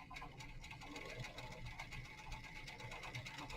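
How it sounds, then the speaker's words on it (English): A serger runs a straight line of stitching on a flyfront sewing sample, a fast continuous mechanical whirring and rattling hum close by, steady for the whole stretch. "Okay, so then I'm going to just do a straight line serge here."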